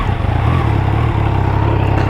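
A Triumph Trident 660 motorcycle with a Zard full exhaust idles while standing still, a loud, close, throbbing low burble with a slight rise in revs partway through.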